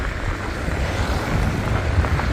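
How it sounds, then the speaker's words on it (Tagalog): Strong wind blowing steadily during snowfall outdoors, a constant broad roaring rush with low buffeting gusts close to the microphone, no talk. "At ang lakas ng hangin."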